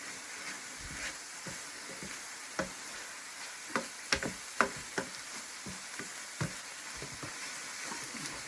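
Jamaican patty filling with thyme being stirred as it fries in a pan: a steady sizzle runs throughout, broken by scattered clicks and scrapes of the spoon against the pan.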